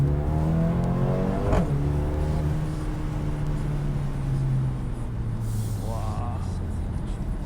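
Engine of a 2020 Mercedes-AMG CLA 35, a small turbocharged four-cylinder, pulls under acceleration on a night drive, a steady rising drone heard from inside the cabin with the sunroof open and people talking over it.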